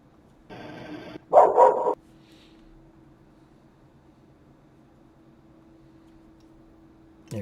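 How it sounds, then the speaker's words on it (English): A dog barks outside the back of a house, caught on a surveillance recording: a short burst of a few sharp barks, fairly loud but with a distant, outdoor quality, followed by a quiet hum. "barking and barking and barking and barking right outside the back of the house"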